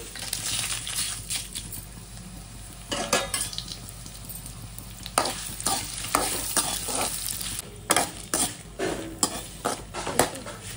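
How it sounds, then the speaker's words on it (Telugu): Dried red chillies fry in a few spoons of oil in a pot on the stove, a soft steady sizzle punctuated by sharp metallic scrapes and clinks of a spoon stirring against the pot. "ఒక 2-3 స్పూన్ల ఆయిల్ వేసుకోండి ఎండుమిర్చి వేగడానికి"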